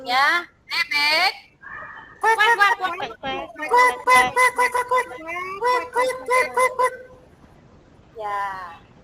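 People in a classroom exercise imitate a duck, making a rapid string of short, loud, nasal quacks in a choppy rhythm, preceded by a few longer voiced calls and followed by one last quack after a pause.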